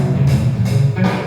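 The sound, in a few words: funky groove loop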